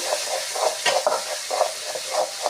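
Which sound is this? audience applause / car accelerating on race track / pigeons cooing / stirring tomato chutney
stirring tomato chutney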